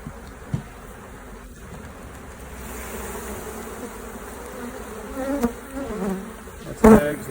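Honey bees buzz around an open hive with brood and honey frames, a continuous soft drone with individual bees swelling louder as they fly close to the microphone.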